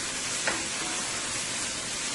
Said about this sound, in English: my onion and my garlic and chili pepper been frying up here for about 2 minutes